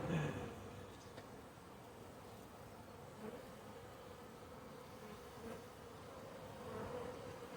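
Honeybees fan their wings at the hive entrance, giving a faint continuous buzzing hum with a few louder bees passing close, in a quiet outdoor setting without speech.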